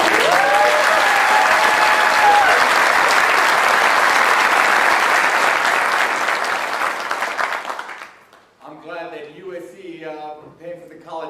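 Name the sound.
audience applause for national anthem rendition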